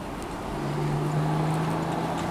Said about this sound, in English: I've got a very good example of just how good this engine sounds.